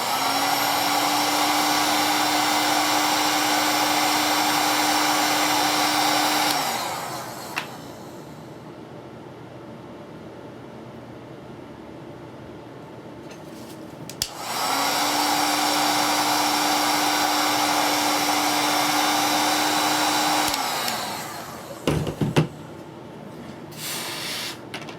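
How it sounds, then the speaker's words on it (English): A heat shrink gun runs in two long, steady bursts with a breathy whoosh and a constant hum, shrinking heat shrink tubing over sleeving; a pause separates the bursts, and handling clatter follows the second. "Throw in some heat shrink, bring it over to the shrink gun."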